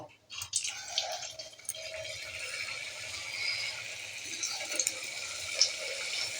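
Egg-shaped pieces of an eggless recipe hit hot oil in a wok and fry with a steady crackling sizzle up close, dotted with sharper pops and spits throughout.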